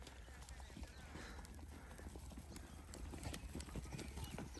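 A mare ridden by a visitor on a goat farm, hooves clip-clopping in an irregular run of sharp knocks, moderately close, with people talking faintly underneath.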